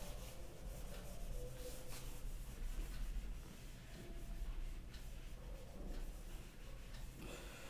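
Chalk or marker writing being wiped off a board during a physics lesson, a steady scrubbing rub in several strokes over about eight seconds, fairly quiet and close, with no talking.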